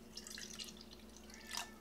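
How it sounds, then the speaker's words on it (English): Water trickles and drips into a cup while yeast is hydrated for a mead batch, a very faint, splashy pouring sound with scattered droplets and a small burst near the end, heard alone. "Okay, so we get a little bit of water in the cup."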